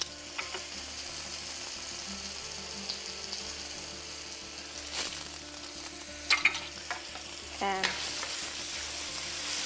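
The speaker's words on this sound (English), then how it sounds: "stir it quickly. Flame should be high, that's the signature of stir fry style of cooking" Garlic and ginger julienne stir-fried quickly on a high flame, a steady close sizzle broken by clanking and scraping of a utensil against the pan, with one brief spoken word.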